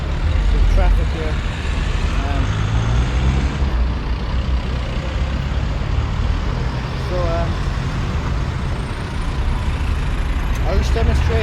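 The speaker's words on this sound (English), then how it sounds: "And just the traffic here." Steady, loud roadway noise of trucks and buses rolling past, a dense low rumble with engine drone and a brief air-brake hiss, continuous throughout.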